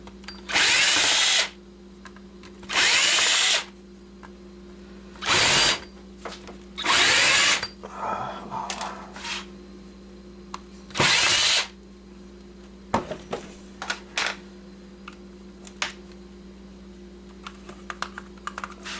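A handheld power drill runs in several short bursts of about a second each while backing screws out of an old wireless computer keyboard. Quieter clicks and handling noises of plastic parts fill the gaps between bursts.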